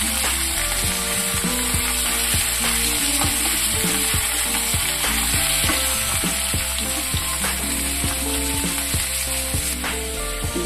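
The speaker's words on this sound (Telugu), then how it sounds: "మధ్యలో ఇలా కదిల్చుకోవాలండి మార్చకుండా మీడియం ఫ్లేమ్లోనే పెట్టుకోవాలి వీటిని" Cucumber chutney frying in a pan over a medium flame, a steady loud sizzle running throughout with repeated scraping and stirring strokes of a spoon against the pan, no voices.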